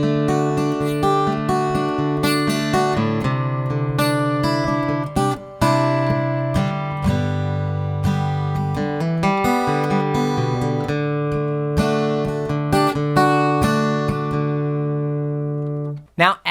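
An acoustic guitar picks the opening lick of a song note for note, with ringing sustained notes played alone and clearly for about sixteen seconds before fading out.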